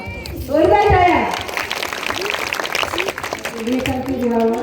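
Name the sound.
loud applause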